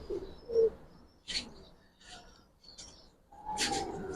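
Low Giribaz pigeon coos sound close by at a pigeon fair, mixed with brief rustling and a few bird chirps, with no talking.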